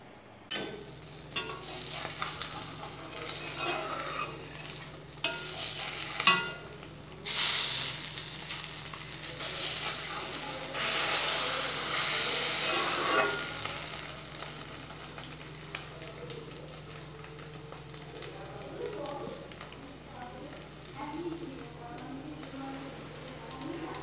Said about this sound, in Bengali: 5টা ডিমকে একসঙ্গে ভাজছি